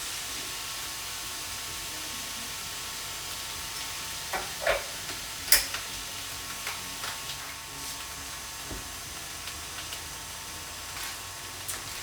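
Steady sizzling of chicken in a hot pan with a constant hiss, broken by a few sharp pops and crackles midway.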